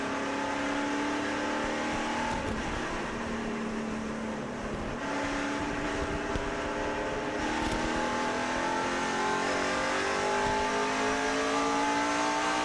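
Race cars accelerating on a restart at the 2006 Sony HD 500, a continuous loud roar of many engines revving and rising in pitch as the field pulls away, with no talk.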